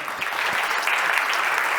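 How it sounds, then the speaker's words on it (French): Audience applause for the panelists at the Trust Valley launch event, a forum on post-COVID trust challenges: a dense, steady wash of many hands clapping, fairly close and even in loudness from start to end. "Je vous prie de leur offrir une ronde d'applaudissements."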